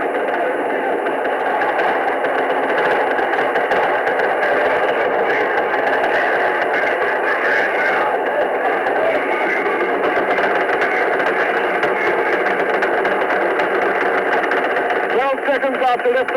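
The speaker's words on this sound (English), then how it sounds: "All engines running. Commit. Liftoff." Apollo 9 rocket engines at liftoff give a continuous, even roar that runs the whole time beneath radio-style commentary voices, steady rather than building or fading.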